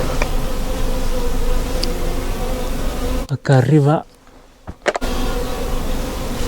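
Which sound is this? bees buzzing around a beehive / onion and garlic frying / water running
bees buzzing around a beehive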